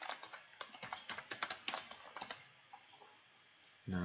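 Rapid, fairly faint clicking of typing on a computer keyboard, with a dense run of keystrokes that slows and fades to a few taps before a brief low sound at the end.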